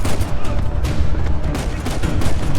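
Explosions and gunfire burst all around in Uncharted 4: A Thief's End gameplay, a dense, loud barrage of overlapping blasts and booms with no pause.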